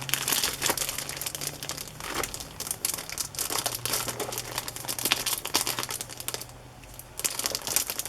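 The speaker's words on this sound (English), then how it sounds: "let me take it out of the plastic." Plastic wrapping being crinkled and pulled off a newly arrived hand-wrapped journal, a steady close rustle and crackle running throughout with short bursts, no talking.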